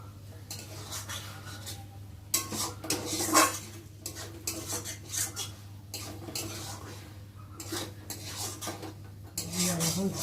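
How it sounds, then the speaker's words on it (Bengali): A utensil stirs sweetened okra (bhendi) in a frying pan, with repeated scraping and clinking of metal against the pan and a faint sizzle, close and moderately loud, without speech. "আর আমি একটু নেড়ে তারপর ভেজে নেব।"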